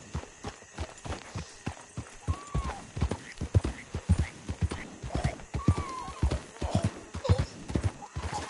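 A horse gallops in Red Dead Redemption 2, its hoofbeats clip-clopping in a fast, steady rhythm close by, with a couple of brief neighs and a faint voice mixed in.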